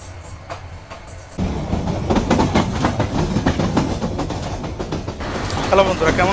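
The Tista Express passenger train on the Dewanganj to Dhaka route runs close by, a steady loud rolling rumble with rhythmic clickety-clack over the rails and some metallic squeals, with voices faintly in the background.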